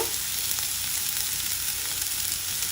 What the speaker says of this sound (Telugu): ఉల్లిపాయలు కొద్దిగా వేగాక